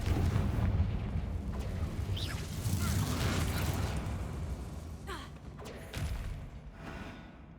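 A Confringo fire spell exploding in Hogwarts Legacy: a heavy, rumbling burst with a booming low roar that swells and fades, then a second smaller blast follows near the end.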